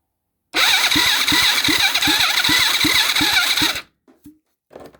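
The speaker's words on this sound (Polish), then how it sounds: "Silnik kręci." A 110cc ATV engine that is weak to start cranks steadily for about three seconds with a rapid, rhythmic chugging under a loud whirring starter, then cuts off, leaving a few faint clicks.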